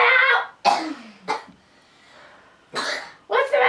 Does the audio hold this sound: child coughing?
yes